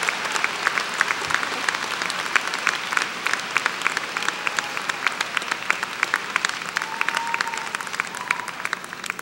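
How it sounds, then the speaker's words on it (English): Audience applause at a college Ivy Day ceremony honoring alumni reunion classes, a steady, dense sustained clapping from a large crowd heard alone without talk. "Another round of applause for the class of 1968."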